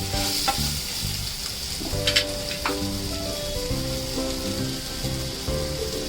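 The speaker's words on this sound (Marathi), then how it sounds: "कैरीच्या फोडी अगदी 1 मिनिटभर चांगल्या त्या मसाल्यांमध्ये परतून घेऊया।" Raw mango pieces sautéed in spices in a hot pan, making a steady close sizzle throughout with a few stirring scrapes and clinks, no voices.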